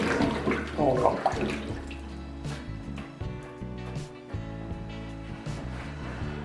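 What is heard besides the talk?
potatoes being washed in water in a sink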